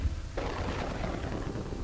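Thunder from lightning in the city-building game Kingdoms and Castles, a sudden crack followed by a deep, rolling rumble that fades gradually.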